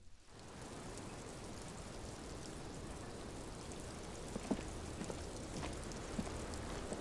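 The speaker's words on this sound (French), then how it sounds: "Il pleut a priori." Steady rain falls as background ambience in the Disco Elysium role-playing game, an even soft hiss with a few faint drip-like ticks, no voices over it.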